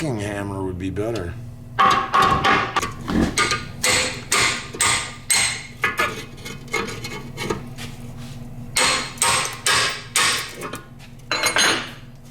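Repeated hammer blows on the rusty rear spring housing of a 1964 Corvette C2, a steady series of sharp metallic strikes at moderate pace, loud and close, with someone talking at times.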